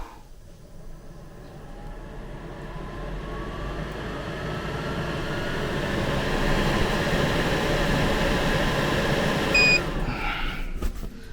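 Steady broadband hum and whoosh of an air conditioner running close by inside a camper van, slowly building, with a brief beep near the end.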